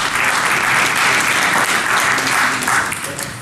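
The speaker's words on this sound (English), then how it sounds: "Clapping before I begin" Dense, loud clapping fills a hall as a Black Hat security conference audience applauds a presenter before his talk, a steady, close wash of hands throughout.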